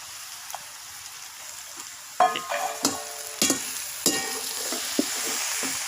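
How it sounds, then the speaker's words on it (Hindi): Onions and meat are stirred as they fry in a pot, with a steady sizzle broken by several scraping, clattering spoon strokes against the metal. Close and fairly loud, with no talking. "हमने सही तरह हिलाना है।"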